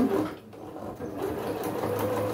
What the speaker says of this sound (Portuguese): agora eu vou passar uma costura prendendo todo mundo